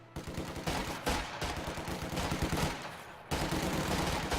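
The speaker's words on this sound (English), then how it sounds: "Volley fire activated for Luvnest here in this engagement should suppress these Pios" A rifle squad fires a volley in a real-time strategy war game, giving dense overlapping gunshots and rapid bursts that continue steadily with a brief lull near the end.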